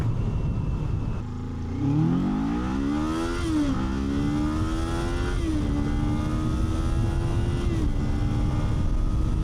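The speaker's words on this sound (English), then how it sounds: "A little bit of a real-world acceleration test there." A 500cc motorcycle, a Kawasaki Z500 or Honda CB500F, accelerating hard through the gears, engine note climbing steadily with brief dips at each of several upshifts, loud and close over steady wind roar.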